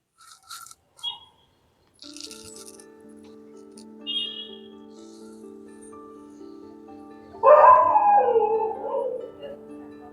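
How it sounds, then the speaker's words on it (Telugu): Dogs howling outdoors, a drawn-out mournful howl rising loud near the end over steady low hum and scattered faint yelps earlier. "బయటను కూర్చుంటే కుక్కల సౌండ్లు వస్తున్నాయి"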